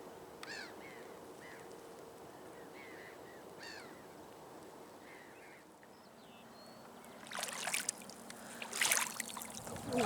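Scattered morning bird chirps and short calls over a soft, steady background of lapping water at an abandoned fort, then louder splashing or rushing water toward the end.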